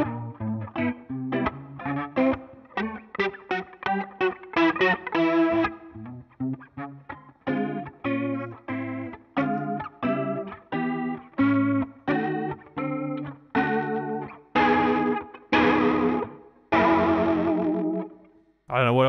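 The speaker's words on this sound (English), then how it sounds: "it's kind of like a fast Leslie thing" Electric guitar through a pedalboard of alt rock, indie and shoegaze effects, with a fast Leslie-like swirling modulation plus distortion and chorus: dense, rapid strummed chords and choppy bursts, loud and continuous, with no voices.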